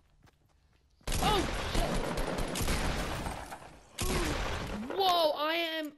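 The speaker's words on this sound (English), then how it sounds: "Being shot from all directions." Rapid video game gunfire crackles from several directions at once, a sustained volley of shotgun-style blasts with a short gap, while a player exclaims over it.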